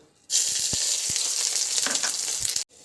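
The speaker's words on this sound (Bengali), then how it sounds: "কড়াতে দিয়েছি তেল তেল একদম অল্প দিতে হবে দেখিয়ে দিলাম আর এই যে পাঁচ ফোড়ন আর শুকনো লঙ্কা" Panch phoron and dried red chilies crackling in a small amount of hot oil in a kadai for a mango pickle, a loud, dense sizzle that bursts in suddenly, holds steady with a few pops, then cuts off.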